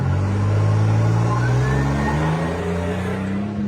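A GMC Typhoon with a turbocharged 4.3 V6 and forged pistons pulls hard under acceleration, its loud, steady engine drone and rising whine holding strong before easing off near the end.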